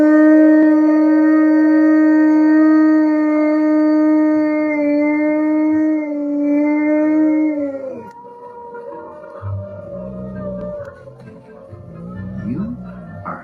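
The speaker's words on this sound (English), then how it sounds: "You're gonna start a howl." Dogs howl loudly together in long, sustained rising and falling tones for about eight seconds, then break off into softer whimpers and yips while people talk nearby.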